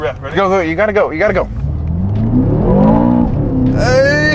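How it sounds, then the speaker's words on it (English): A 1/10 M6 RC car on budget tires accelerates hard at full throttle, its rising electric whine swelling after excited shouting, then another high whine starting at the end. "let's find a nice little spot to jam my gas pedal down to the floor"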